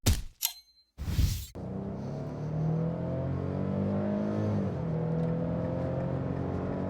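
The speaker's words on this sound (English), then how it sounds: "we're gonna start with my acceleration test, full throttle" A 2025 Nissan Frontier SL with a naturally aspirated 3.8L V6 pulls at full throttle: a few sharp clunks, then a steady, loud engine drone that climbs in pitch, dips at a gear change and climbs again.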